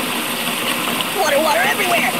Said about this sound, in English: Water everywhere!